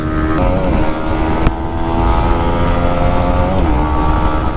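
Several racing motorcycles, an R15, NS250, MT15 and N250, roar at full throttle in a drag race, a loud, continuous engine howl with rising and falling gear tones close by.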